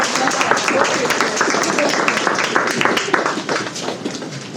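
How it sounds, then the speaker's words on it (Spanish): Applause from a group at an Open Data Day ideathon event, a dense continuous burst of clapping with people talking and calling out over it. "un aplauso a todos"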